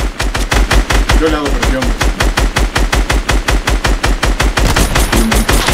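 Rapid automatic gunfire in the battle royale game Fortnite, a loud, evenly spaced stream of shots hammering throughout, with someone speaking briefly over it.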